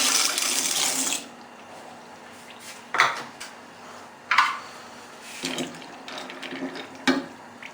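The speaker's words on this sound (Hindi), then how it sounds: "अब इसके अंदर हम डालेंगे मैकरोनी।" Dry macaroni poured into a pan of water on the hob, with a long rattling clatter at the start followed by several short knocks and clinks of pan and utensils, close by.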